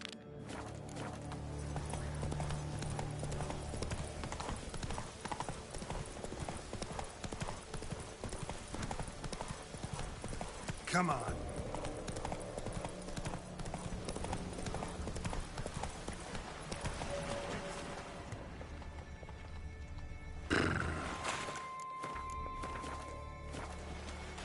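Roach, a horse in The Witcher 3, plods with rhythmic hoof clip-clops through the scene, with a brief whinny and a few louder thumps, over a low game ambience.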